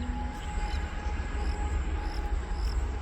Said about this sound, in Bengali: আর এদিকে ট্রেন, রেল লাইন, তো এই দেখুন ট্রেন যাচ্ছে।